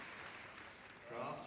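A crowd cheers and claps for a champion Whippet at the Crufts dog show, a steady wash of applause with a swell toward the end, with a commentator's voice running over it.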